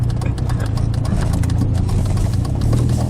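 A car's exhaust rumbles low and steady at a car meet, a continuous idling drone close by with crowd noise around it.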